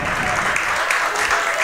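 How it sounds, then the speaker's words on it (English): Crowd at a college baseball game applauds after a foul ball is caught, a dense, steady burst of clapping heard from a distance with no pause. "There's a very big round of applause."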